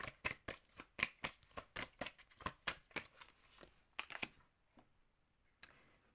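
Playing cards are shuffled and drawn for a tarot-style reading: a rapid, regular run of crisp riffling flicks close to the mic, then a few isolated card snaps after a pause, fairly quiet with no talk.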